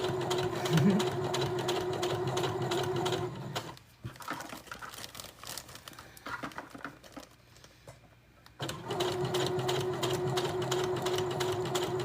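A sewing machine stitching along with a guide whirs steadily up close, pauses for several seconds of quiet handling and fabric rustle, then starts running again at the same fast pace, with no talk.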